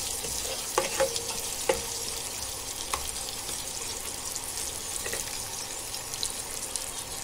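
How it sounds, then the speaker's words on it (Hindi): Kashmiri chillies frying in oil for a fish curry base, an even low hiss of sizzling with a few faint clinks of stirring, close and fairly quiet, with no voices. "अभी इस सबको फ्राई करेंगे अच्छे से"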